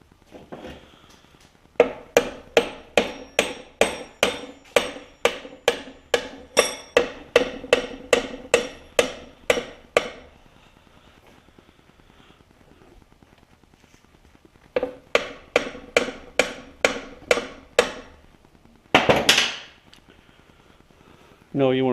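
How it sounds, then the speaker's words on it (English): A hammer taps a Peerless 820 transmission part clamped in a vise, with long runs of steady, evenly spaced metallic blows, a pause, then a shorter run of taps followed by a scraping clatter. "you want to tap it with that hammer real quick"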